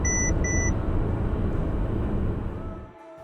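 A Mercedes-Benz C220d (2019) sounds its forward collision warning as two quick, bright electronic beeps over the loud, steady rumble of the moving car, which fades slightly toward the end.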